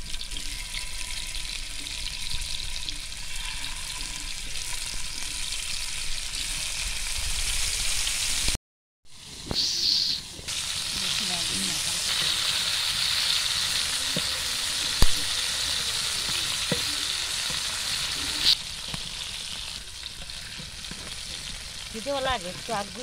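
Hilsa fish fries in a pan while being stirred, giving a continuous loud sizzle with scraping stirs, broken by a short silent gap before the hiss resumes.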